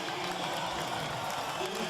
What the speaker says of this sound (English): The players applauding, saying thank you for your support.